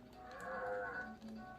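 A cow from the cow launcher in the South Park PS1 video game gives one drawn-out, faint moo that swells and then fades.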